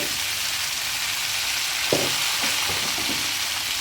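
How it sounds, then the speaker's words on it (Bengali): Vegetable stalks frying with spices in a pan give a steady close sizzle, with a few soft stirring scrapes and clatters in the second half. "ভালো করে নাড়িয়ে দিতে হবে, যতক্ষণ সবগুলোর মধ্যে ভালো করে মশলাটা লেগে যায়"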